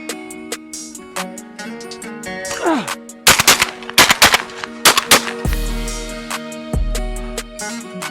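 Mossberg shotgun fired outdoors for a trick shot, a sharp loud blast followed by a rapid cluster of cracking reports and clattering impacts, then low rumbling thuds fading out.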